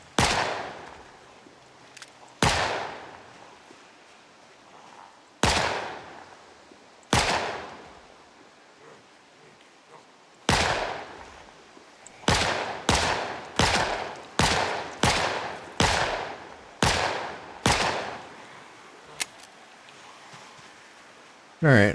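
Suppressed gunfire in Project Zomboid as zombies are shot down: sharp, loud single shots, spaced out at first, then a rapid run of evenly timed shots, then a few more scattered reports, with no voices.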